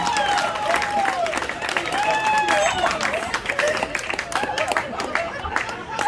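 Comedy-club audience applauding and cheering in a burst of steady clapping that fades out over several seconds.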